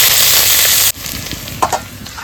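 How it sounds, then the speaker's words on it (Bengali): Chopped onion fries in hot oil with whole garam masala, torn bay leaf and two dried red chillies, giving a loud steady sizzle that cuts off abruptly, then quieter crackling with a couple of soft utensil clinks. "পেঁয়াজ ভাজা হয়ে গেছে"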